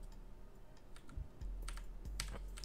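Quick bursts of computer keyboard typing, faint and close, with uneven clusters of keystrokes and a low background hum.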